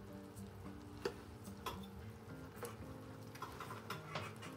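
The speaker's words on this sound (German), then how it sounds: "Während des Bratens habe ich das Fleisch erneut gewendet," Meat browns in a pan, being turned as it fries: a soft, steady sizzle with occasional louder spits and crackles, fairly quiet and close, with no voices.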